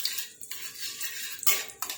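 A spoon stirring cumin and asafoetida in hot oil in a pan, sharp metallic scrapes and clinks against the pan over a faint sizzle, quiet and close.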